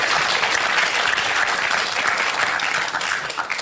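Audience applause at a Christopher Hitchens Q and A event, dense continuous clapping from a large crowd, loud and sustained before tapering slightly at the end.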